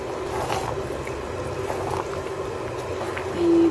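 Chop suey bubbling at a steady simmer in a pot, a continuous soft boiling hiss and burble that stays even throughout, close by with no voices.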